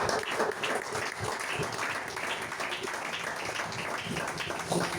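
A church congregation breaks into sustained, dense applause, a steady wash of many hands clapping throughout, with voices faintly mixed in.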